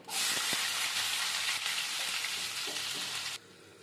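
Onions frying in hot oil with tempering seeds for a dried-shrimp gongura curry, giving a loud, steady broadband sizzle that holds throughout, with a couple of brief clicks, then drops sharply near the end.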